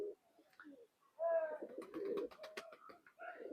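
An old Khulna Naktana pigeon gives a faint, close coo with a brief rising note. Soft background voices and rustling surround it in a quiet setting.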